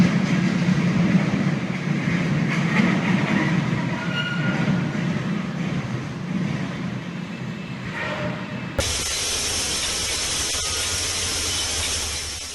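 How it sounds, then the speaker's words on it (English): A train carrying containers derails while moving, producing a loud, continuous rumbling roar of rolling stock and grinding metal, with a sharp shift to a harsher, brighter hiss near the end. "Train container derails mid-motion"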